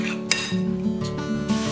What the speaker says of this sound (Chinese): 再用勺子拌匀待用。